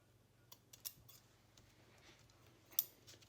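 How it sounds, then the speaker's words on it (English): Scissors trimming paper for a Christmas junk journal, a few sharp, faint snips scattered over a quiet background, close by with no talking. "I'm just going to trim it, let's see, right at the edge here"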